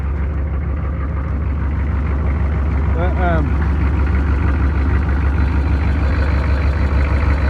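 A 6.5 diesel truck engine in a 1993 Chevy K3500 with a holed piston idles steadily and loudly up close, a continuous low rumble with speech over it.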